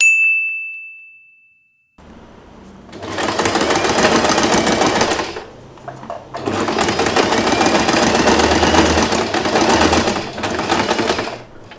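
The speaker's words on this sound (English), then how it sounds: "we sew it back and forth or zigzag stitch" A sewing machine zigzag or back-and-forth stitches the joined ends of a scrunchie's elastic band. A single bright ding comes first, then two long, loud, close bursts of rapid mechanical stitching separated by a short pause, with no voices.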